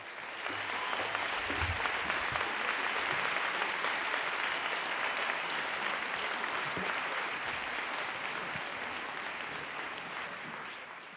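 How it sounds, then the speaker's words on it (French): An audience at a conference applauds warmly, a dense, sustained clapping that swells quickly and carries on for several seconds before slowly easing. "Émeric Caron, merci de l'applaudir."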